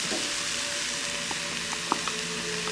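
Mashed boiled potatoes sizzle in a pan with chicken samosa filling, a steady close frying hiss with a few small stirring clicks and no voices.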